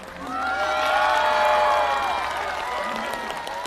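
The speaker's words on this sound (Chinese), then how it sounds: "你为什么要鼓掌？" Studio audience applauding on a Chinese comedy variety show, a dense wash of clapping that swells, holds steady and slowly thins out, with a faint voice underneath.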